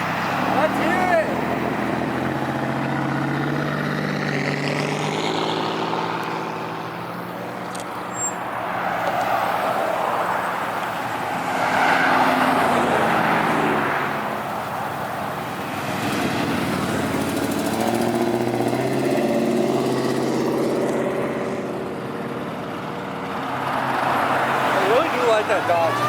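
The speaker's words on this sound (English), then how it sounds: "That Pinto right there, it has a Grand National V6 turbo engine." Ford Pinto fitted with a Grand National V6 turbo engine revving at a car show, rising and falling engine swells over a steady drone, loud and close, with people talking around it.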